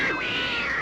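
A human voice imitates a cat's meow, a single short, close, wavering mew with a rising then falling pitch.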